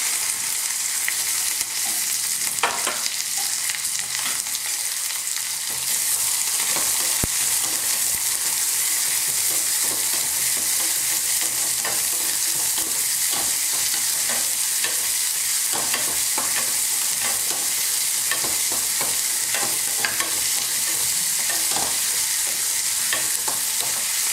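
Onions sautéing with curry leaves and half a dried red chili for eggplant chutney, a loud continuous close sizzle with scattered stirring scrapes and no talk.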